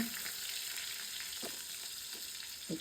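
An eggplant slice sizzles in a hot pan, a soft, even frying hiss with a few light scrapes and taps, close and steady, no voices.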